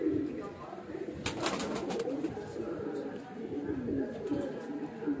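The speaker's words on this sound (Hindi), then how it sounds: "ये हमारे शौक़ के कबूतर हैं सब।" Highflyer pigeons cooing softly in low, throaty murmurs that keep overlapping, with scattered rustling and a brief flutter of wings.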